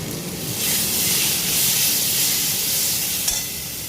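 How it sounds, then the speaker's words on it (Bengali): Spice masala of cumin, coriander powder, turmeric, salt and poppy seed paste sizzling steadily in a pan, a continuous bright frying hiss with faint stirring underneath and no voices. "মশলা কষা হয়ে গেছে"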